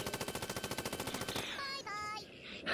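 Machine gun fire in the turn-based artillery game Worms Revolution: a steady rapid burst of evenly spaced shots, loud and close, breaking off into chirpy cartoon sound effects.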